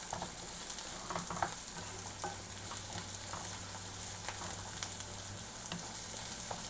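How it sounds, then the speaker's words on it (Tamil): Onions sautéing in a pan for a paneer masala dosa sizzle steadily and close, with light scraping and stirring clicks scattered through the continuous frying hiss. "இப்போ இதையும் நல்லா வதக்கிடலாம்."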